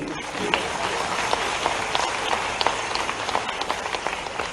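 Applause from the audience at the Abhyudaya-2025 session-opening ceremony of the Makhanlal Chaturvedi National Journalism university, a fairly soft, continuous patter of many hands with scattered sharper claps, heard through roomy ambience without speech.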